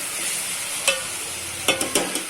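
Broad beans (chikkudu) are stirred in a pan on the stove, with soft sizzling underneath and a few sharp scrapes and clinks of the spoon against the pan, close and without talk.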